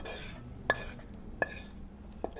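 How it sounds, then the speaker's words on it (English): A metal spoon scraping sauce from a saucepan, three sharp clinking scrapes spaced apart over a low background hum, close by, with no talk. "And let's scrape the sauce from with your spoon."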